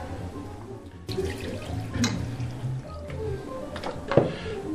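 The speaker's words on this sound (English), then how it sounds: "And you pour in the chicken broth." Chicken broth pours steadily into a soup pot over vegetables, a soft continuous splashing and gurgling with a few brief clinks, fairly close and without talk.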